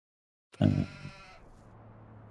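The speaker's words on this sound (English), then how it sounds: "We'll have a quick peek at our sheep and goats who are doing absolutely fine." Sheep and goats bleat on a farm in the video game Farming Simulator 25, one loud close bleat followed by a softer call, then a low steady hum of farm ambience.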